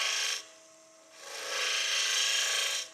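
A spindle gouge hollows a spinning piece of wood on a lathe, making a close, loud rasping scrape in two strokes with a softer lull between them and no speech.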